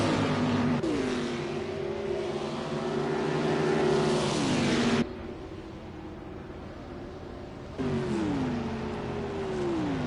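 Race cars roaring around the track in a CSKL AAA Texas 200 racing game, a loud sustained engine drone with pitch sweeping as cars pass, dropping briefly then surging back.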